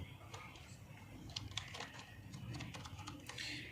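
Steady, close keyboard typing on a computer as a full name is entered into an account sign-up form, soft irregular key clicks over a low room hiss.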